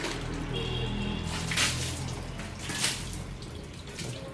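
Water from a full bucket splashes over a bicycle during a wash, a steady close pour and spatter with a couple of heavier gushes.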